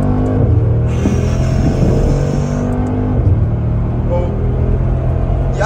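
A Brabus G800 accelerates hard, its engine roaring loud and close with rising revs and gear shifts, a continuous powerful drone, with voices faintly under it.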